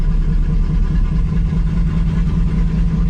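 A 1957 car engine fitted with Fitech EFI idles after a cold start, steady and loud up close, a low even rumble that carries on without pause or speech.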